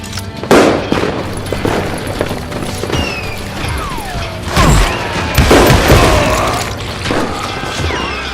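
Video game gunfire in the Western shooter Call of Juarez: Gunslinger: loud, close bursts of revolver and rifle shots with booming impacts and ricochet whines, dense and irregular throughout.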